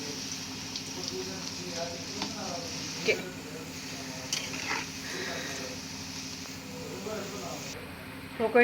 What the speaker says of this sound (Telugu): ఈ రంగు వచ్చేదాకా మనం నూనెలో ఉడికించుకోవాలి